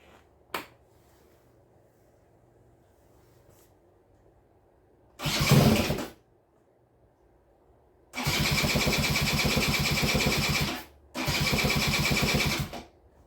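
A Honda Bosozoku scooter engine cranks and fails to catch: a brief tick, then three separate bursts of starter whirring, the last two long and steady, with quiet gaps between them and no engine firing.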